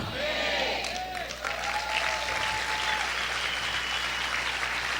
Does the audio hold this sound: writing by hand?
no